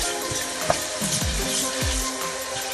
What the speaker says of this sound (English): added our chopped onions. We want to just stir it for a little bit.